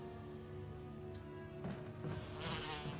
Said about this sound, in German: Und da kommen Bienen angeflogen.